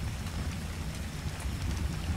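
Rain falls steadily in the video game Ark, a dense, even hiss of drops with a low rumbling undertone, continuous and moderately loud with no voices.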